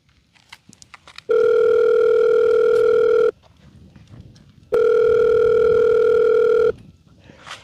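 A telephone call ringing out unanswered: two long, steady electronic ring tones of about two seconds each separated by a pause, loud and close over faint background noise.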